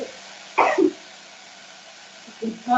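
A sudden sneeze-like burst while chili paste for a red beef curry cooks in a pot, followed by quiet and then brief voices near the end.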